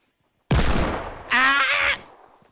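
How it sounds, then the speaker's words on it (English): Gunfire in the Fortnite video game: a loud burst of shots erupts suddenly after a faint moment of quiet, followed by a second sharp, ringing volley, close and alone. "People are shooting at us!"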